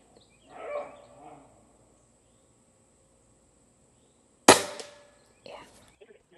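A single sharp, loud shot from a JTS Airacuda Max air rifle, followed about a second later by a softer knock of the pellet striking the target in a backyard range, with a faint murmur before the shot.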